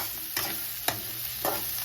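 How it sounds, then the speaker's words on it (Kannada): Onion, chilli, cinnamon and cloves fry in oil for biryani with a steady close sizzle, broken by three or four quick scrapes of a spoon stirring the pan. "ಸ್ವಲ್ಪ ಈರುಳ್ಳಿ ಕೆಂಪಗೆ ಆಗೋ ಫ್ರೈ ಮಾಡ್ಕೊಬೇಕು."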